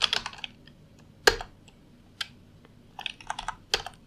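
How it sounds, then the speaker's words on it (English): Fingers typing a command on a computer keyboard, short bursts of crisp clicking keystrokes with one sharper key press and brief pauses between, close and clear with no talk. "You must type pip install"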